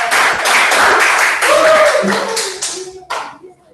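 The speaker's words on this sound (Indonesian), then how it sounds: "Berikan aplaus pada" Classroom applause in a microteaching lesson, a burst of dense clapping from a group of students that fades out, with voices mixed in near the end.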